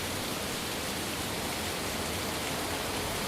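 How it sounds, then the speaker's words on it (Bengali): Heavy rain pours steadily through a leaking roof in a cartoon home, a dense, even wash of noise that stays loud and unbroken with no voices. "বিছানায় যেখানে বৃষ্টি পড়ছে সেখানে একটি বাটি রাখো।"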